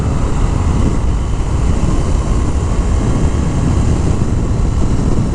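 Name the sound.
2019 Indian FTR 1200 S motorcycle engine revving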